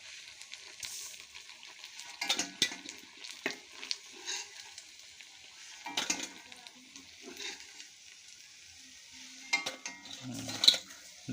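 Sabudana pakoras crackle and sizzle quietly in hot oil in a kadai while a slotted spoon clinks and scrapes against the pan now and then, lifting the pieces out one by one.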